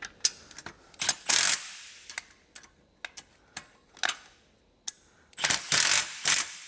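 A 10 mm ratchet tightens bolts on a robust steel office chair: bursts of fast mechanical clicking, close and crisp, separated by brief quiet gaps.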